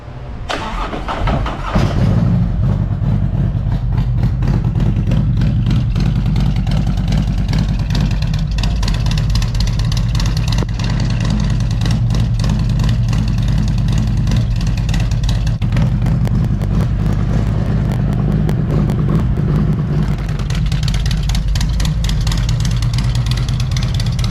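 A 2019 Harley-Davidson Road Glide with a 114 engine and Vance and Hines exhaust fires up and settles into a loud, rumbling idle with throaty rises in pitch as it is revved, heard close by.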